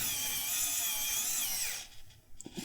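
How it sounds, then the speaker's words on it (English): A Xiaomi Wowstick P1+ electronic screwdriver spins in a high, whiny motor whir up close, then stops as the screw seats, leaving a few small clicks and handling noises. "Let's try tightening them up again."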